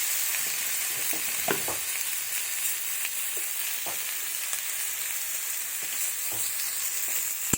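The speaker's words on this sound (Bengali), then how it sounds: "আর আলুগুলো ভেজে নেব। লবণ হলুদ দেবো।" Potato pieces fry in oil with salt and turmeric, a steady bright sizzle running throughout, broken by a few soft stirring scrapes and clicks, close and without talk.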